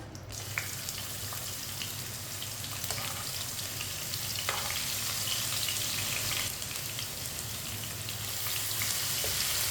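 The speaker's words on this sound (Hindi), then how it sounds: "लहसुन को 2 मिनट के लिए पका लेंगे, हल्का सा ब्राउन कर लेंगे।" Steady frying sizzle of crushed garlic in hot oil, a continuous crackling hiss with occasional sharper pops, close and fairly loud throughout, with no voices.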